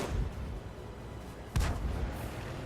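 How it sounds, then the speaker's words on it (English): A tank's large cannon fires once in World of Tanks, a single heavy boom partway through that rolls off into a low rumble over continuous battle ambience. "I'm going to let Drifter take a shot with his gigantic cannon on this thing"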